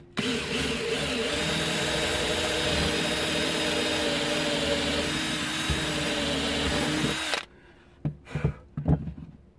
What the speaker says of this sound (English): Drill a little hole here and we do this side